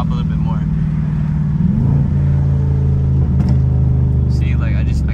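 A fifth-generation Chevrolet Camaro SS with a K&N cold air intake rumbles loudly up close. The deep exhaust note rises and falls as it revs, with some sharp crackling bursts.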